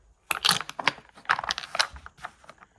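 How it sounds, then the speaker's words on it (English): Bakelite checkers clack against each other and a 12.25-inch AP Games patent board with a Bakelite handle, in a rapid, close cluster of sharp, hard clicks and rattles. "the sound of those checkers is really nice. Got that unmistakable Bakelite clack to it"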